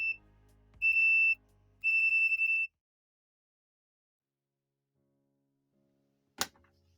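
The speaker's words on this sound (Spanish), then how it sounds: "Comprobación del circuito eléctrico y pitido." An ET828 Pro multimeter gives short, high electronic beeps during a continuity test, two separate bursts close together, each about half a second, followed by silence and one brief click near the end.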